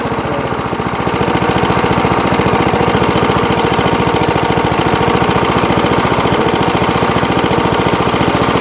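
A 46-year-old vintage lawnmower engine idles steadily with a loud, even, rapid chugging that runs alone from start to finish.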